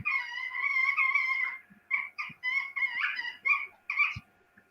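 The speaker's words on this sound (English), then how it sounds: "It's the ball making a noise." A squeaky toy ball gives off a series of whiny, wailing squeals, one long cry followed by several shorter bursts, fairly close and alone without talk.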